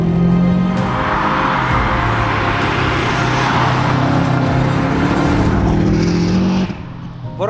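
A Subaru Impreza WRX STi drives at steady speed, its engine droning loud and continuous with road and tire roar, then easing off near the end.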